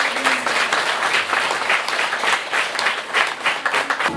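Steady applause from a crowd at a church mission gathering in Nepal, many hands clapping densely and evenly throughout with no voices.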